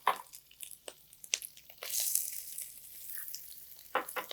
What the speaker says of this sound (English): we're gonna add a little bit of carrot and some diced white onion.